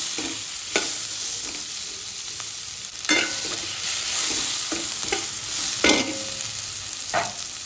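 Potatoes fry in hot oil with a steady sizzle. Repeated stirring strokes scrape and clatter through it at irregular intervals.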